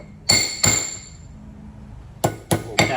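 Hammer tapping a part into place on a 1968 Camaro during a disc brake conversion: five sharp metallic taps with a slight ringing tone, two early and three close together near the end, over quiet shop background.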